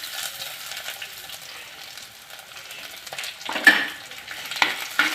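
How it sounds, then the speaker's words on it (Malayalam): Fenugreek seeds, curry leaves, garlic and ginger fry in hot oil, a soft continuous sizzle with scraping stir strokes, brief louder clatters of the spoon near the end. "ഇനി ഇതൊന്ന് ഇളക്കി കൊടുക്കണം."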